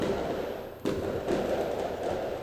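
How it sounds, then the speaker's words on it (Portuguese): Fireworks go off outdoors, with one sharp distant bang followed by a lingering rumble and faint crackling carried on the air. "Mas fica esses fogos perturbando."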